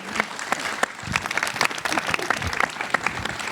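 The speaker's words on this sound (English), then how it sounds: "Round of applause." A live audience gives a round of applause for a winemaker at a Chateau Montelena anniversary celebration, steady close clapping filling the whole stretch with a few sharper claps standing out.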